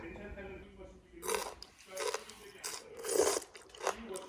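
Yeolmu kimchi, young summer radish kimchi, is bitten and chewed close up, giving several crisp, juicy crunches in uneven bursts with quiet pauses between bites.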